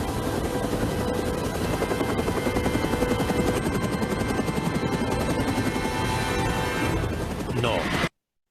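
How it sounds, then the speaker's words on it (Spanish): A B-212 helicopter in a film scene, its rotor thumping loudly and continuously, mixed with engine roar, crashing noises and a few bursts of voice. "El helicóptero,"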